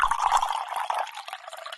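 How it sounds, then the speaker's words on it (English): Water poured into a glass gives a short, close, bright trickling fill that starts strong and tapers off within a couple of seconds, heard alone without speech. "Let me get you water."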